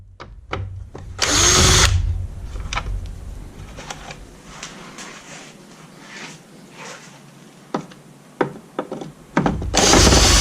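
Power tool loosening bolts on a Dodge Ram mirror housing, two loud bursts of whirring drill near the start and end with clicks and handling noise in between, close up.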